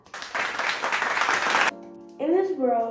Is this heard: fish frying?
no